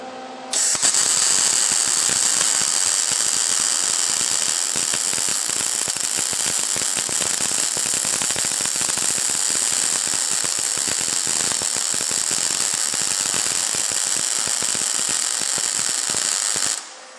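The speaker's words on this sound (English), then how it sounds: "Now we're going to start on this back hole right here, and we're going to fill it in." A MIG welder lays a plug weld filling a hole on a trailer hitch coupler, a loud continuous crackling buzz holding steady for about sixteen seconds before cutting off.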